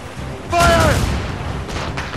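Naval cannons on a sailing ship in the game Assassin's Creed Rogue fire in a short booming burst, followed by a rumbling tail and a fainter second report amid battle noise.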